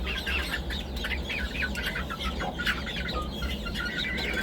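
Chickens cluck and chatter steadily throughout, a busy flock close by with overlapping short calls and no talking.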